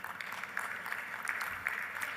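Faint, distant applause rises from the audience at the ICASA 2025 conference, a soft, even patter of many hands that holds throughout, with a murmur of voices underneath.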